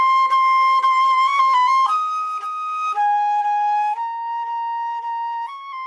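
Solo flute playing an ornamented phrase from Voxman's Andante Cantabile in A, clear sustained tones stepping down through several notes with quick decorative turns at the start, close and unaccompanied.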